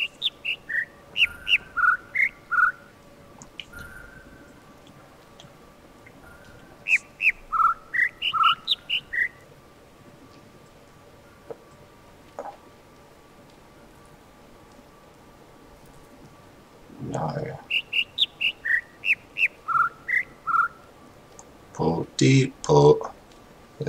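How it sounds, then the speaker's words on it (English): Jungle birds call in repeated bursts of descending whistled chirps, clear and fairly close, separated by quieter gaps, with a voice speaking over the later calls. "It's so hard to tell which bird I'm listening to."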